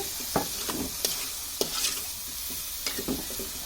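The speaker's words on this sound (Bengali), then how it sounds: "যে জিরা গুঁড়ো আছে সেটা দিয়ে দিব। এখন একটু ভালোভাবে নেড়ে দিচ্ছি" Shredded cabbage with cumin powder sizzles gently in a pan as a spatula stirs it, giving sharp scraping taps at uneven intervals over a soft, steady frying hiss.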